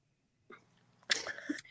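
A single sharp human sneeze bursts out close and loud after a brief soft inhale, set in a quiet room during a live-streamed circle gathering.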